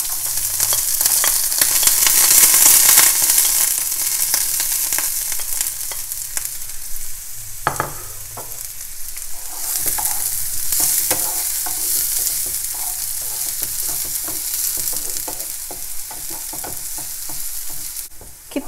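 Chopped onion fries in hot oil in a pan on a gas stove, giving a loud, steady sizzle with repeated scraping stirs and brief clatters of the utensil, and no voices.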